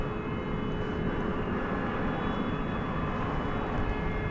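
A Boeing 787 Dreamliner rolls along a runway after dark, producing a steady, distant engine rumble and whine that stays constant without rising or fading.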